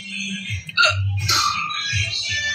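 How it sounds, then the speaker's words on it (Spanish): A woman's hiccup during a casual live stream, one sharp sudden catch of breath in the middle of ongoing voiced sound, close and fairly loud. "¡Me hipo!"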